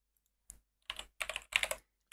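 Terminal commands are typed on a computer keyboard in a few quick clusters of close, crisp key clicks separated by short silent gaps.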